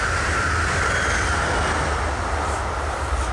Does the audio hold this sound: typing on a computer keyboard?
no